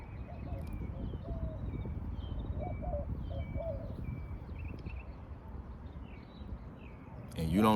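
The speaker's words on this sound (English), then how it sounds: "I'm just listening to the birds, man" Birds calling outdoors: several short chirps and whistled notes scattered over a steady low rumble of background noise, moderately distant.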